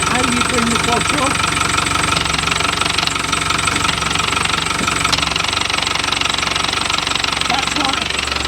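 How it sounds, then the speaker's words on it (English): A Land Rover Defender 110 with clutch and transfer box problems runs close by, giving a rough, knocking, rattling idle that stays steady and loud throughout; no speech rises above the mechanical noise. "But that clutch is noisy."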